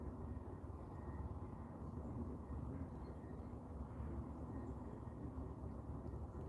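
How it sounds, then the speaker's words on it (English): A distant helicopter drones faintly outdoors in nature, a low steady rumbling hum that continues evenly throughout with no talking. "I hear a helicopter in distance somewhere."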